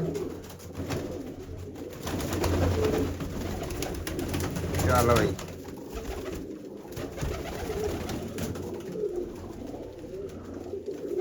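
Large pigeons coo in low, rolling murmurs close by on a rainy day, a steady throaty burble under a man's brief speech and a dull background hum.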